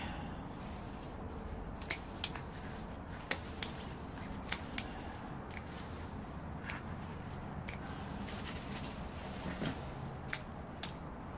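Scissors snipping through potato plant stems in a container garden, a scattering of small crisp clicks spaced irregularly over a steady low background hiss.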